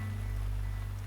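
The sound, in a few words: rain in a video game, Misericorde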